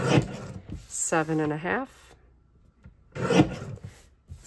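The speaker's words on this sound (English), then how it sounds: "let's trim this into some rectangles here" Paper being trimmed into rectangles on a cutter for a woodland-themed page kit, with close scraping, rasping slides in short bursts between stretches of a voice talking.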